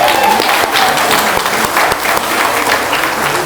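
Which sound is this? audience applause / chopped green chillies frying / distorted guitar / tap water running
audience applause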